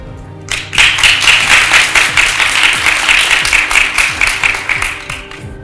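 An audience at a university startup accelerator workshop breaks into loud, sustained applause to welcome a speaker, with dense clapping that holds steady for several seconds and then slowly thins.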